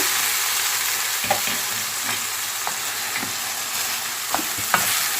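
Washed, drained rice sizzles steadily as it fries with fat and onion in a pan, with a few soft spoon taps and stirring scrapes over the constant hiss, close and with no talk.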